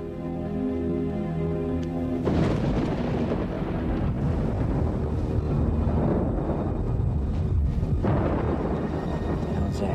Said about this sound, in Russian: Молния